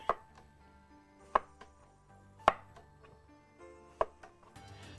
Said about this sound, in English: Cucumber. Let's crinkle cut our way forward.